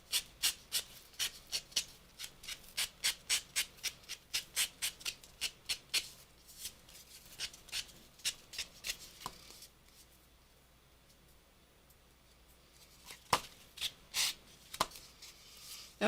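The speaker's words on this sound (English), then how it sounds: "You want to sand down or across." Sandpaper rubbed over damp paper for recycled Christmas tags, quick rhythmic scratchy strokes close by, pausing for several seconds before a few sharper strokes resume, with no talk.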